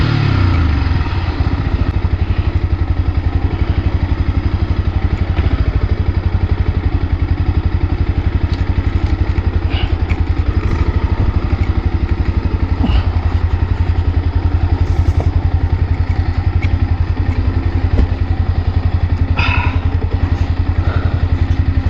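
A Yamaha WR155R enduro motorcycle is ridden continuously, its engine droning loud and close throughout, with occasional clatter and thumps from the trail.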